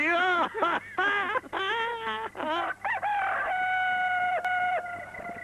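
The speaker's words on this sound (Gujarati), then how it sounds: "લ્યો આ કુકડો બોલ્યો" A rooster crows loudly and close, a few choppy calls followed by one long drawn-out crow.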